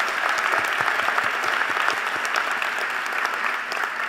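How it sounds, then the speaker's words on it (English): An audience at a university presidential installation ceremony at Bowie State applauds alumni delegates, steady dense clapping from a large crowd held at an even level for about four seconds with no speech. "Give them a round of applause"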